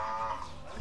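A cow gives one short, low, close moo that lasts under a second, with no talking over it.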